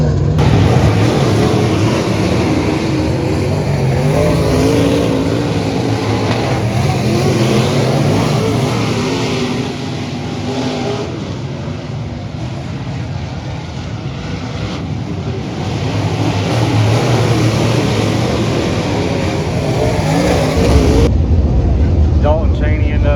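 Modified race cars roar around a muddy dirt bull-ring speedway late in a feature race, a loud continuous engine drone with rising and falling revs and wind noise throughout.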